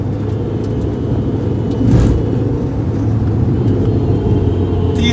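Toyota Fortuner and Mahindra XUV500 drag racing in power mode with traction control off, heard as a steady, loud engine and road roar with a brief swell near the middle, no talk.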